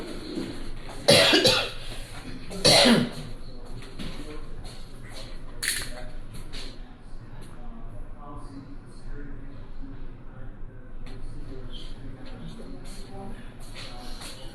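A person coughs sharply a couple of times, with rustling and quiet movement around, then faint voices and background noise.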